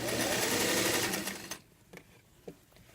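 A sewing machine runs a steady, loud stitching burst along a lining seam's raw edges for about a second and a half, then stops, leaving a few soft clicks and handling knocks.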